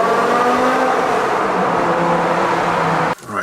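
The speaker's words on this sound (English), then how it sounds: "fire up that V10. It's not Ferrari high pitch, super loud, but it still sounds good." A BMW M5 V10 idling loud and close with a steady, rich engine drone that cuts off abruptly near the end, with no voices.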